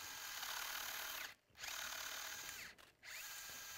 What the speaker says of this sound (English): And starting the reamer off the bone,